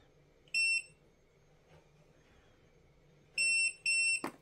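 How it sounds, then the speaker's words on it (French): An OKP K2 robot vacuum gives a short electronic beep, then after a pause a pair of crisp, high beeps signalling pairing mode, all clear over a faint room hum. "Donc vous gardez enfoncé jusqu'à entendre les 2 bips"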